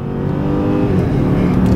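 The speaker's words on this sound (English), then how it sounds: "Turbo's kicking in." A turbocharged Mercedes-Benz S-Class engine pulls hard under steady acceleration, a loud continuous roar with road and wind noise, heard from inside the car.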